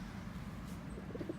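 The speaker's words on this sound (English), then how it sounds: "Look, here is a male pigeon doing a mating dance for the female." Pigeons cooing outdoors while a male performs a mating display for a female, soft low repeated coos rising toward the end over a constant background rumble, fairly quiet and nearby, no speech.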